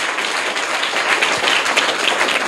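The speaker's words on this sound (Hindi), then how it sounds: "जोरदार तालियां इनके लिए।" Steady, dense applause rises from an audience at a government school quiz in Bihar as a top-three winner is recognised, with no talking over it.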